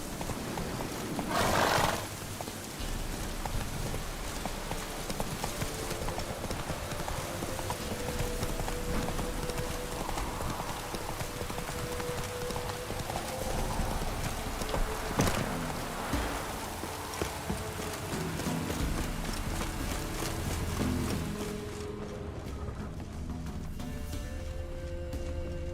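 Roach, the horse in The Witcher 3, galloping with rhythmic hoofbeats under rain, plus a short whinny near the start, continuing steadily at moderate loudness.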